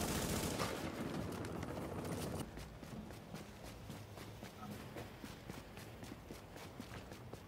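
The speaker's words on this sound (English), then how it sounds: "they use fire turrets." Fire turrets shooting in a video game, a dense rapid stream of shots that is loud at first, then continues more softly as a steady rattling barrage.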